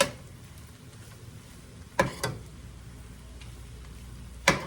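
Eggs fry in a hot skillet of pork fried rice with a steady, fairly quiet sizzle, broken by a few sharp scraping clicks from stirring near the start of the second half and again at the end.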